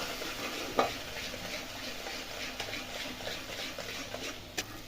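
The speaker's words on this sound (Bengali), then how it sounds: "এরপর মশলাটাকে তেল ছাড়া অবধি কষে নেব" Spice paste sautéing in oil for vegetarian dum aloo, a soft steady sizzle with a few scattered clicks and scrapes of a spoon, fairly quiet and with no talking.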